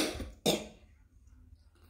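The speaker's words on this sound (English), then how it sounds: "so I will be coughing a lot" A sick person coughs twice, close and fairly loud: a short burst right at the start, then a sharper one about half a second later, then near silence.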